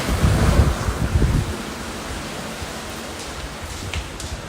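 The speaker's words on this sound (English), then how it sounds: "It's pouring and it's lightning, it's thundering" Heavy rain pours outdoors during a thunderstorm, a steady broad hiss with deep rumbling bursts through the first second and a half before settling into constant downpour.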